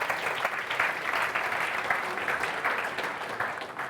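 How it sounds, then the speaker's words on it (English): Conference audience applauding a speaker at a European rail safety event, dense steady clapping from a large crowd filling the whole stretch without fading. "Don't clap before you see if you enjoy the presentation or not"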